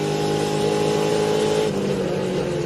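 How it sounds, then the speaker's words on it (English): Onboard a sprint car racing at Queensland Raceway, a loud steady engine drone holds a constant pitch throughout, close and unbroken. "We're going to take you in car with a sprint car star on the way down to turn 3."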